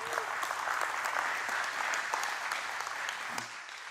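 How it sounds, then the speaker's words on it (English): A church congregation at a Sunday service gives sustained applause, a dense even clapping from a moderately distant crowd that tapers slightly toward the end. "Round of applause for Ricky."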